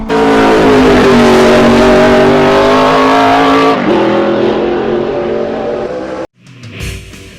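1960s racing cars including a Ford Zephyr roaring around a track, a loud close engine note climbing in pitch before changing down, then fading off and cutting out near the end.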